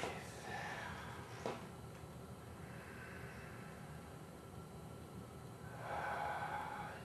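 Slow, deep breathing while holding a wrist stretch for carpal tunnel relief: two soft, drawn-out breaths, one near the start and a longer one toward the end, close and quiet with no talking.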